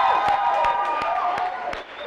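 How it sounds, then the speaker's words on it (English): Audience applause at the SRO nightclub and bar, a steady wash of clapping with sharp individual claps standing out, a sustained tone lingering beneath it. "give yourselves a round of applause for being here tonight"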